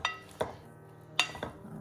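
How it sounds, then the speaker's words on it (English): Potato salad tossed in a bowl, giving a few sharp clinks and scrapes of a utensil against the dish in quick, irregular bursts, close and fairly quiet with nobody talking. "I'm gonna give this just a little toss."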